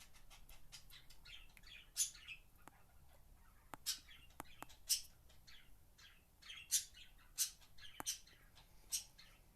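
Video game birds chirp and tweet in scattered bursts, sharp calls popping up every second or so over a quiet background.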